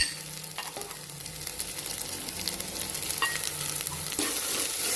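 Ginger-garlic-coriander paste and ground cinnamon, clove and cardamom powder fry in oil while being stirred, a continuous close sizzle with scraping strokes and no speech.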